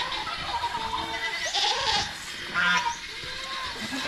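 Goats on a Philippine farm raised alongside pigs bleat in two or three short calls over a faint, steady background hum, some nearby and others further off.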